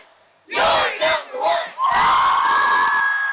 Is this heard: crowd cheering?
yes